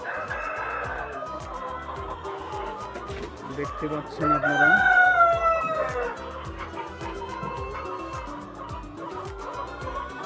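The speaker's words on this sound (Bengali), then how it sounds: "এটা একটি টাইগার মুরগির খামার" Tiger chickens about 52 weeks old in a poultry farm: constant clucking and crowing from a crowded flock, with a louder burst of calls midway, heard under a person talking.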